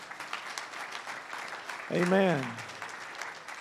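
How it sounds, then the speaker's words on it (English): A church congregation claps throughout a service, a steady patter of applause, while a voice calls out briefly in the middle. "Let's give the Lord a round of applause for that one."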